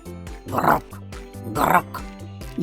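Two grunting, oink-like bursts sound close up, separated by a short pause, over a tonal background; they may be a voice imitating a pig.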